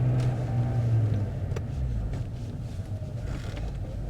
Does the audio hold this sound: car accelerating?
yes